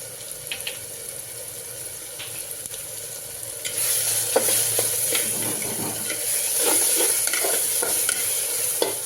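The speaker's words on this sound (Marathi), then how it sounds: "हे सगळं साहित्य चांगलं आपण परतून घेऊया" Spices with turmeric and salt sautéed in a pan for Dharashiv-style mutton rassa, a close, loud frying sizzle with repeated spatula scraping and stirring that grows busier partway through, no talk.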